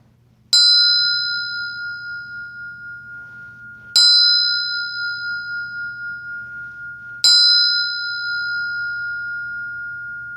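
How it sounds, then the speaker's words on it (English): A meditation bell is struck three times at slow, even intervals, each a clear ringing tone that lingers and fades with a gentle pulsing shimmer before the next strike, loud and alone. "I'll sound the bell."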